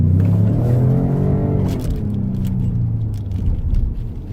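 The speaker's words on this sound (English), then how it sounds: "this is the V6 engine that is in this particular big car" A Lincoln Navigator Reserve L's twin-turbo V6 engine revs loudly up close, its pitch rising then easing back into a deep, rumbling idle.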